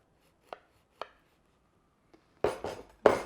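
Crunchy chocolate brownie with tonka bean and walnuts held close to a microphone, a few faint crisp taps followed by loud crunching bursts as it is broken or bitten near the mic.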